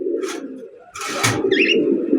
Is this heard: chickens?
no